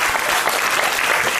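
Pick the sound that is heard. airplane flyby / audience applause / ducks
audience applause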